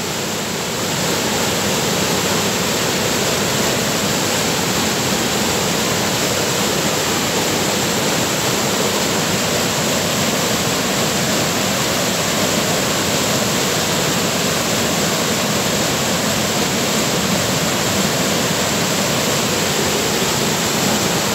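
Steady rushing water from a stream flowing toward the River Carron near Larbert Viaduct, a constant broadband wash without pauses or voices, close and fairly loud throughout.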